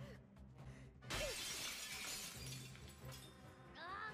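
Glass plates shatter in a One Piece anime fight scene, a sudden bright crash followed by scattered tinkling debris and dramatic background effects.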